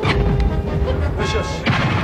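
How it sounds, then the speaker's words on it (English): Cannon fire on a Takeshi's Castle game show obstacle course, heard as dense, loud booming blasts over a continuous noisy crowd and commentary din, with a fresh impact burst near the end. "Can she dodge the cannon?"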